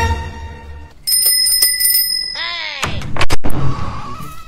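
A bicycle bell rings rapidly several times in quick bursts, close and bright, followed by thumps and clattering noises.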